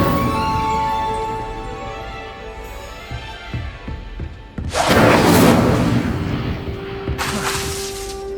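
An Incendio fire spell cast in Hogwarts Legacy, a deep booming whoosh of flame that swells loudly, drops briefly, then flares again, preceded by a few soft thuds.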